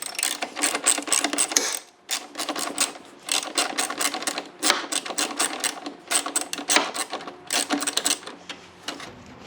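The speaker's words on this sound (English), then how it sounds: "1/4 inch Craftsman ratchet with an extender on it here, and then my 8mm socket on the end there." A 1/4-inch Craftsman ratchet fitted with an extension and an 8mm socket backs out a bolt on a 2018 Jeep Grand Cherokee, giving close, rapid clicking bursts that stop briefly and then resume.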